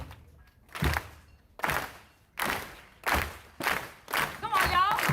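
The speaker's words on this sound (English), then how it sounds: "And then we're gonna go start clapping." A crowd at an Oakland protest claps together in a slow, steady rhythm, with six or seven loud, evenly spaced claps that gradually speed up a little toward the end.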